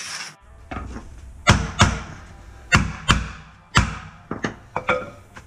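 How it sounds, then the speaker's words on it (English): A piece of wood is banged down onto a floor at a construction site during a toilet flange install, giving about a dozen sharp, loud, close thuds in irregular bursts with short ringing tails. "Let me get a piece of wood. Bang this down."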